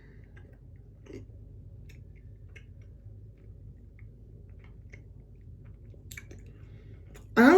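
Chewy French caramel candy being chewed up close, with quiet, sticky, squishy chewing sounds in a slow irregular rhythm, followed at the very end by a sudden louder noise.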